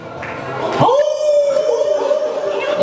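A person imitates a wolf howl at a festive party game, with a single sustained wavering howl that rises then holds steady and loud over crowd noise.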